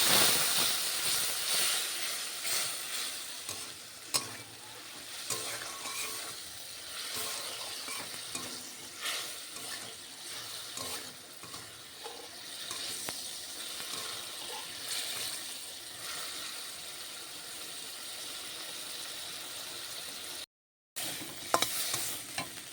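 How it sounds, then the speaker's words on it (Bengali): Ground paste of cumin, ginger, garlic, onion and chilli fried for an egg curry, a close, soft steady sizzle with frequent scraping stirs and brief clatter, broken by a short gap near the end. "জিরে আদা রসুন পেঁয়াজ লঙ্কা একসঙ্গে বেটে রাখা ছিল সেই মশলাটা দিয়ে এবার এটাকে কষাতে হবে"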